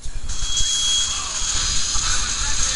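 A rescue helicopter in the Left 4 Dead 2 video game roars in a steady, dense whir of rotor and engine noise, loud and continuous throughout, with no voices over it.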